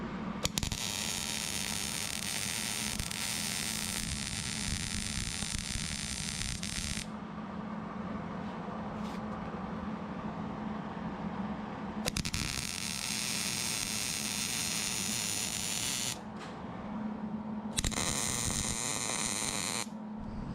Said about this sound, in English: I'm going to MIG weld this thing together right now, and then the downpipe will pretty much be done.